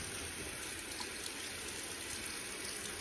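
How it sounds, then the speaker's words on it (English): A kitchen tap in a vintage home runs in a steady, unbroken hiss of flowing water, close and fairly quiet, with no voices over it. "The tap water is already functioning."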